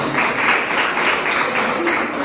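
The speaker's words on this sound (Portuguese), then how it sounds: "Vamos aplaudir o nosso Deus." A church congregation claps together during a worship service, a dense, steady wash of applause with faint voices mixed in.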